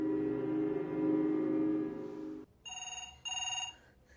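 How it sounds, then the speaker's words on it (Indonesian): A telephone rings in a room in a Japanese horror film: after a sustained low droning tone fades, two loud, clear electronic ring bursts follow in close succession, each a rapid trilling buzz, with silence between. "Tak lama kemudian telepon di ruangan berdering."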